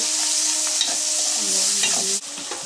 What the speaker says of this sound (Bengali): তারপর পেঁয়াজ দিয়ে ভেজে নিব, দিয়ে দেবো স্বাদ মতো লবণ। এখন কিছুক্ষণ নাড়া দিয়ে নেব